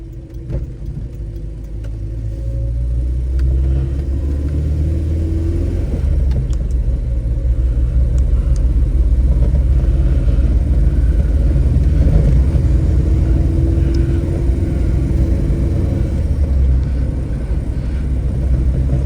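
A 1967 Volvo 1800S engine pulls steadily in second gear, a loud, continuous mid-range rumble that swells slightly as the car accelerates and then holds even under load.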